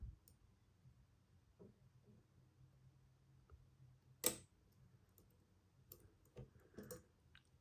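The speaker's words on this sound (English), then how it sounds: "There's a click on pin 6." Faint single clicks come from a lock pin while an Avocet ABS Master Euro cylinder is picked, with one sharper click standing out among a few quieter taps in near silence.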